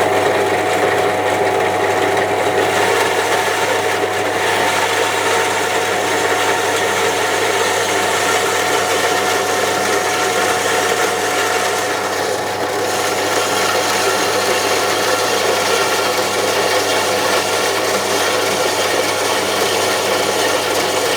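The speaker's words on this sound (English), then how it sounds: "Helps if you turn the actual bandsaw on at the mains." Bandsaw running and cutting firebox insulation for a model marine steam engine, a loud continuous mechanical whir with a steady hum that holds for about twenty seconds without a break.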